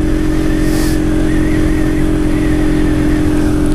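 A loud, steady motorbike engine drones continuously while riding, with a constant low hum and faint rushing air.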